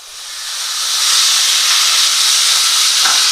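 Chicken breast pieces fry in a pan, a loud, steady sizzle that swells during the first second and then holds as a dense, continuous hiss, with no voices.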